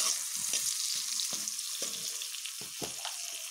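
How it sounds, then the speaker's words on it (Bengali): Vegetables, with eggplant among them, fry in a pan after salt goes in. A soft, steady sizzle runs under short scraping stirs that come every half second or so, close by and fairly quiet. "নুন মিশিয়ে একটু নেড়ে নিচ্ছি"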